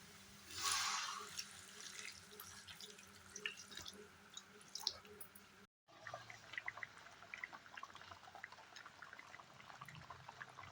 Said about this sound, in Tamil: இப்போ தண்ணி கொஞ்சம் சேர்த்துக்கலாம்